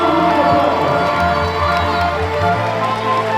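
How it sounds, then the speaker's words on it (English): A crowd cheering and applauding at the close of a senior fashion collection showing, loud and continuous with shouts and claps over a low thumping beat. "Give up a round of applause"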